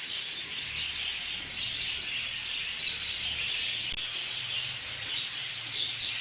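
Many budgerigars in a breeding aviary chirp and chatter in a dense, continuous, fairly soft chorus with no voices present.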